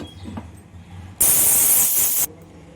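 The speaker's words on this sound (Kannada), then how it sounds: "ನೋಡಿ, ಸ್ಟೀಮ್ ಹೋಗಿದೆ, ತೆಗಿತಾ ಇದ್ದೀನಿ." Steam bursts loudly from a pressure cooker holding dum vangi bath, a steady broadband hiss lasting about a second after quiet kitchen background, then cutting off abruptly.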